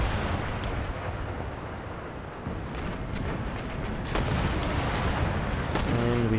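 Volleys of gunfire and booming artillery from a naval battle in Empire: Total War, dense and continuous, with cannon blasts overlapping from all sides and a sharper cluster of shots near the end.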